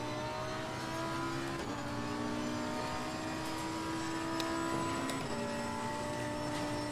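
Front-engine race car in Assetto Corsa Competizione taking a fast turn, engine droning steadily at high revs with gear-like pitch shifts, no talk over it.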